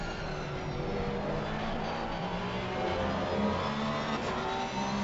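A Porsche race car in a sim racing league event at the Hungaroring holds a steady, loud engine drone down the straight at full throttle, with other cars audible around it.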